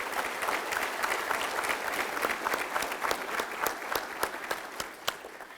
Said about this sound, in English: Please, Jennifer, stand up and let them give you a big round of applause because she did an excellent job.